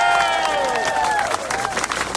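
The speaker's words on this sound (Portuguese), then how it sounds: "Vamos acolher com uma salva de palmas." Outdoor crowd at a political rally camp applauding and cheering to welcome a former Bahia governor, steady massed clapping with raised voices and shouts over it, brief and fairly distant.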